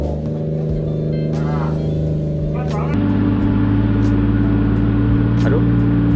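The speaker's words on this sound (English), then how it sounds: "we're gonna put the 86 inside the workshop." A Toyota AE86 with a 7AGE engine idles close by as it is driven into a workshop, a loud, steady low drone that shifts pitch partway through. Faint talk can be heard underneath.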